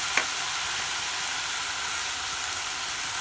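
Vegetable cabbage curry with coconut milk bubbles and sizzles in a pan while being stirred, giving a steady hissing sizzle with one small clink near the start.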